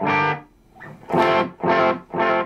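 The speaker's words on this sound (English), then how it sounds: "now this is as far as the tape delay goes." Distorted electric guitar chords played through a tube amp and tape delay pedal, strummed in short bursts, four loud stabs with brief gaps, each note smeared by a repeating echo effect.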